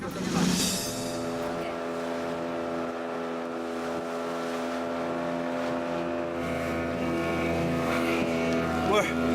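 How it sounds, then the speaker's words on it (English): Speedboat engine roaring steadily at speed through the dark, a loud continuous drone with strong harmonic hum and rushing water, with people talking faintly beneath it. "We're belting along in a speedboat here, in dead of night, and getting very wet in the process."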